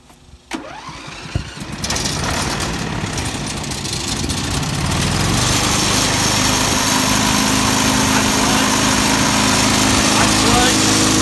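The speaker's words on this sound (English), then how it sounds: "So let me go ahead and start this." A John Deere riding lawn mower engine cranks and fires, then settles into a steady, loud idle that runs close by, with a brief voice heard near the start.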